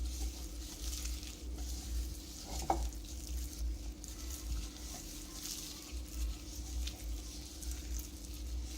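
Raw chicken is stirred through a wet marinade in a bowl, giving a steady, soft, squelching churn that runs continuously at close range, with one brief louder knock partway through.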